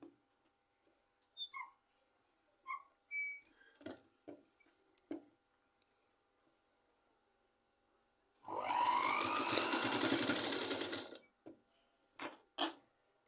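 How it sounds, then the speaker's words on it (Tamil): A sewing machine runs in one steady whirring burst of about three seconds while stitching folded fabric for a blouse neck. Quiet clicks and handling taps come before and after it. "அவ்வளோ துணி ரெண்டாக மடித்து தைச்சிக்கோங்க"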